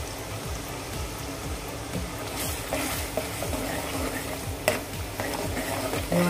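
Onions and a ground masala paste sizzle and fry in oil in a pan, with a steady crackle broken by repeated scraping stirs, for a Kolhapuri chicken rassa.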